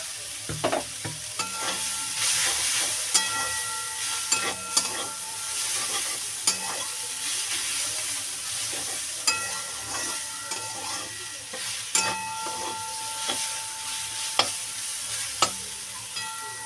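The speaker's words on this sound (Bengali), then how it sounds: "এবার আমি চিংড়ি মাছগুলো দিয়ে দিলাম" Shrimp frying in a pan, a continuous close sizzle punctuated by sharp clinks and scraping strokes of a utensil stirring at irregular intervals, with no talking.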